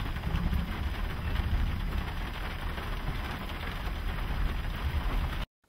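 Steady rain falls on an open, waterlogged plain as a dense, even hiss close by, running unbroken for several seconds before cutting off abruptly.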